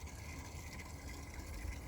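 Water gushing steadily from a hose onto tropical plants at the corner of a lawn, a quiet continuous spray with no talk.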